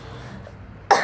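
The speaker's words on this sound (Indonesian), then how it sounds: "Saya mau lagi batuk kak." A single sharp cough bursts out near the end, close and loud after a near-silent stretch.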